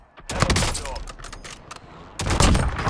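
Gunfire in Call of Duty Warzone comes in several rapid bursts of loud, sharp shots, with a pause in the middle and a final heavy volley at the end.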